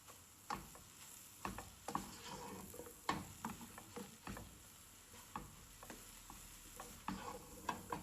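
Noodles mixed with biryani powder being stirred in a pan, giving soft, irregular scraping taps and ticks close by over a faint sizzle.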